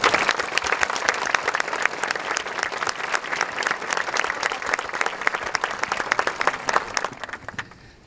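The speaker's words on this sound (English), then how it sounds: "Would you please join me in another round of applause for our musicians?" An audience at a middle school graduation applauds the musicians, sustained dense clapping from a large crowd that tapers off near the end.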